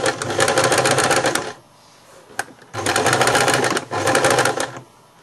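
A sewing machine stitches along a pillowcase hem in three loud, rapid bursts of rhythmic needle clatter, separated by short quiet pauses and a single brief click.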